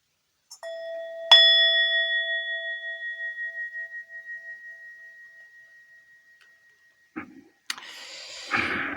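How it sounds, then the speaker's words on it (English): A small bell is struck twice in quick succession, the second strike ringing out with a clear, pure tone that slowly decays over several seconds, followed by brief rustling and handling noise. "I'm just going to ding the bell"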